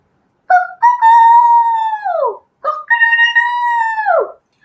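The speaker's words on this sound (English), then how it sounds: "All too soon, a rooster crowed." A rooster crows twice, loud and near, each call a long, rising and falling cock-a-doodle-doo with a short pause between them.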